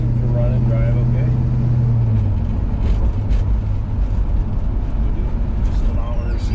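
A 1960 Dodge Dart Phoenix engine running while driving, with a slight carburetor hesitancy, a steady low rumble inside the car with a tone that fades early on, while someone talks over it.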